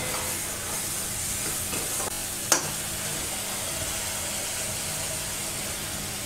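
Masala with ginger paste and green chilies frying in a pan for a Bengali shrimp and banana stem dish, a steady close sizzle with one sharp clack of a spoon midway, no voices.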